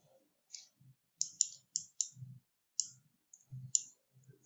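Computer mouse clicking in drawing software, about a dozen crisp, close, quiet clicks in an irregular rhythm, some in quick pairs, with near silence between.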